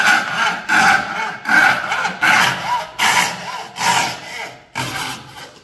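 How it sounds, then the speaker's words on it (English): A coping saw cuts through thin wood in close, loud strokes, about eight rhythmic rasping pushes and pulls with short gaps between them. "I'm going to place my coping saw at the top, make myself a little score line, which I have, and I'm just going to start cutting"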